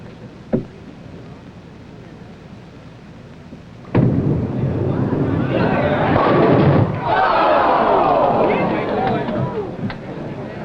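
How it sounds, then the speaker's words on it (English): At a 1969 professional bowling tournament championship match, a ball rumbles down the lane in a long, loud roll and ends in a crashing clatter of pins, with crowd noise in the background. "Mike-Limongello needs a strike on this ball in order to win the tournament."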